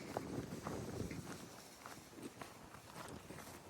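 Steady footsteps crunching along outdoors toward the River Severn at a walking pace, close by, with a faint rustle of wind in the background.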